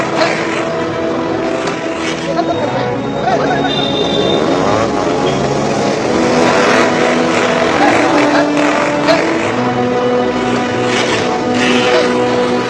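Motorbikes revving hard on a street near an office in Chennai during Ayudha Puja, engines roaring loudly and continuously with overlapping throttle surges and a dense traffic-like din.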